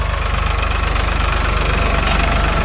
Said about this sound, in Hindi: ट्रैक्टर बढ़िया स्पीड में चल रहा है।